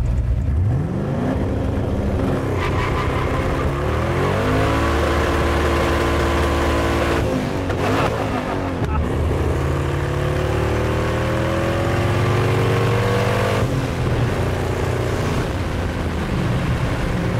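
Twin-turbo Ford F350 pickup truck engine accelerating on the road, a heavy droning roar that climbs in pitch through repeated gear changes, heard steadily and loudly from inside the cab.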